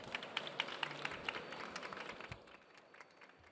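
A conference audience claps for the panel speakers after a session, scattered distinct claps at first that thin out and fade within a few seconds, fairly quiet and heard alone.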